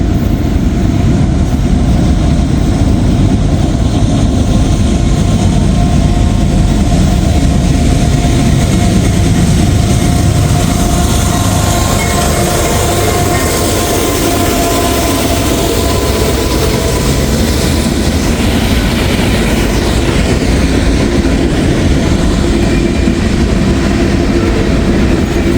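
A CSX train rumbles past during a rainy weekend, its loud, continuous heavy roar of wheels and cars lasting throughout, close and steady with faint rhythmic clatter.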